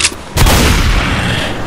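In Left 4 Dead 2, heavy gunfire at the Tank begins with a sharp shot, then a bigger booming blast follows and trails off into a rumbling decay.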